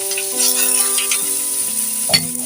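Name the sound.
chicken pieces frying in their own fat in a pan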